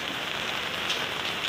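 Heavy rain pours steadily in San Rafael, Bulacan, a dense continuous hiss of drops drumming on surfaces, close and loud, with no voices.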